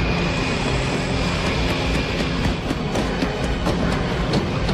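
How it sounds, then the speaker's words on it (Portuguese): A Stuka dive bomber in a film roars with a dense, loud, continuous engine noise and wail, unbroken and without talk. "O Stuka, pra quem não sabe, é aquele avião que faz uma zoada"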